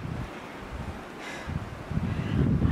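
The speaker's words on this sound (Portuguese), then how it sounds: "Olha o vento, olha o vento, ó." Strong wind blows outdoors in cold southern Finland, a rough gusting rush that buffets the microphone with low rumble and swells louder toward the end, with no one speaking.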